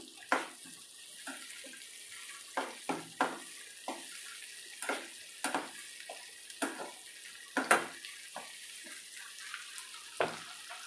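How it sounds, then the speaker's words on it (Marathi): Tomato puree for a Rajasthani besan gatta curry cooks in a pan, giving faint, irregular wet pops and sputters spaced a second or so apart over a quiet background. "यातच आता टोमॅटोची प्युरी घालते मी. तीही व्यवस्थित फ्राय करून घेऊ."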